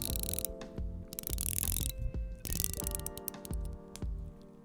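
A mechanism in an OEM MM200 watch case gives out a quick series of crisp, close metallic clicks in an irregular ratcheting rhythm, with no talk.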